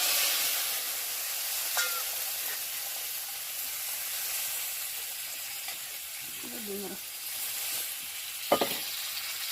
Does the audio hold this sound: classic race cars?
no